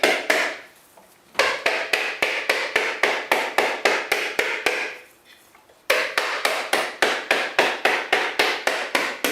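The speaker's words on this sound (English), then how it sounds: "a ball peen hammer is a pretty good hammer for this" A ball peen hammer strikes a coconut shell in steady rapid blows, loud and close, with two brief pauses before the sharp regular tapping resumes.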